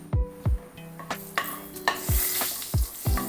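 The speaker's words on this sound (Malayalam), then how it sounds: "അതിനകത്തോട്ട് ഇച്ചിരി എണ്ണ ഒഴിച്ച് നല്ലപോലെ ചൂടാകുമ്പോഴത്തേക്കും അതിനകത്ത് കാശ്മീരി റെഡ് ചില്ലി ഉണ്ടല്ലോ, അത് നമുക്ക് കുറച്ച് ഇട്ട് കൊടുക്കാം" Kashmiri red chili fries in hot oil, a soft continuous sizzle punctuated by about eight sharp, near knocks of a utensil stirring against the pan.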